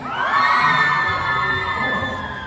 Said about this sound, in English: Everyone who's in a Nijisanji cosplay, can you yell as loud as you can?